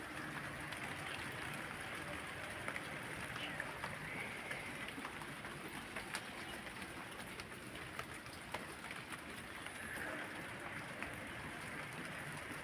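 Rain falls on a rooftop garden of plants and climbing beans, a soft, continuous hiss with scattered light taps on leaves and surfaces, faint and steady throughout.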